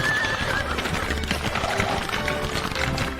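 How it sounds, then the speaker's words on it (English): A horse whinnies briefly at the start, followed by clattering hooves and movement in a busy animated scene. "To speed things up, Leo summoned a skeletal horse to pull the car."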